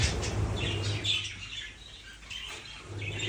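Pet birds in their bath give close chirps and squawks with bursts of splashing and wing flapping, mixed over a soft steady background hum.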